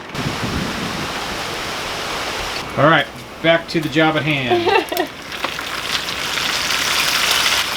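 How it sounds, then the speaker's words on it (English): Rain coming down heavily, a dense steady hiss that fills the scene, briefly dropping back while a person speaks, then swelling again loud and continuous. "look at the rain coming down"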